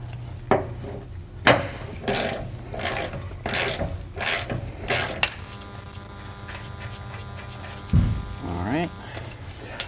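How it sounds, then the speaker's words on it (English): Metal tool knocking and scraping as the front hanger is broken off a trailer leaf spring mount during a Dexter spring over-under conversion, sharp repeated clanks and bursts close by, with a ringing metallic tone later and some talk. "We're going to break off our front hanger now."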